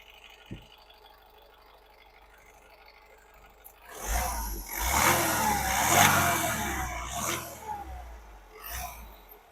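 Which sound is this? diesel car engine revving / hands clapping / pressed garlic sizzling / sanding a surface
diesel car engine revving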